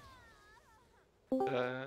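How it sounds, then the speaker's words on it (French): A domestic cat lets out a loud, close meow with rising and falling tones in the last half second, following quieter wavering background sounds from a League of Legends tournament stream. "et mon chat qui miaule, désolé"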